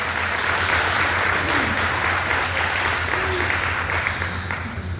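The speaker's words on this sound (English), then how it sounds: "Everybody give him a round of applause." Steady, dense applause from a large crowd at a Chamber of Commerce banquet fills the whole stretch, loud and continuous without letting up.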